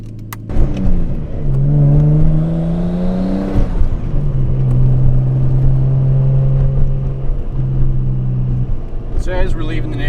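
A Nissan R32 Skyline pulls away with a loud, close engine drone, rising through one gear, dipping as it shifts, then holding a steady cruising tone, with someone talking over it.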